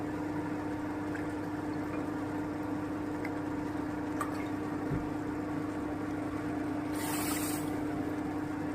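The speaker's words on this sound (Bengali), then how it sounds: "আমি আড়াই বাটি জল দিয়ে দেবো" Water is poured into sugar in a cooking pot to make syrup. A faint, steady liquid trickle runs alongside a constant background hum.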